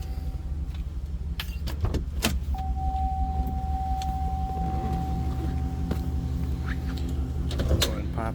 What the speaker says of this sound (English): this will automatically latch up front, and the cover closes up in the back